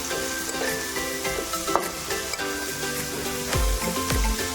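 Onions fry in a pan for gongura rice, a dense continuous sizzle with scattered pops and the scrape of stirring, a couple of low thumps near the end, no voices.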